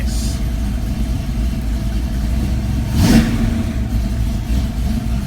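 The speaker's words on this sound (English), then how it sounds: "perfectly cold engine, no warm up needed, and I have this kind of throttle response." A cold EFI-equipped engine, just started with no warm-up, gives a single sharp throttle blip that rises over a steady idle rumble and settles back, heard close with no talking.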